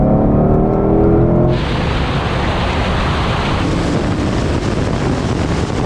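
A Mercedes-AMG SLS Black Series and a Ford Mustang Shelby GT500 race in sport mode with manual gearboxes locked in third. Engine tones rise at launch, then turn into a loud, continuous roar of engines and rushing wind.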